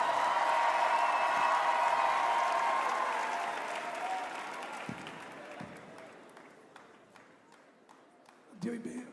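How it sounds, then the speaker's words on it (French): A church congregation applauds for Jesus at a Saturday evening gathering, loud broad clapping that gradually thins and fades over several seconds, with scattered murmurs and a few voices rising near the end. "Si c'est pour Jésus, plus fort cet applaudissement"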